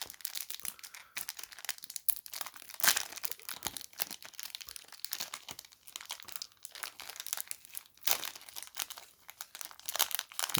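Foil wrapper of a Pokémon Sword and Shield booster pack being torn open and handled, giving close, continuous crinkling and rustling with sharper tearing bursts, no talking.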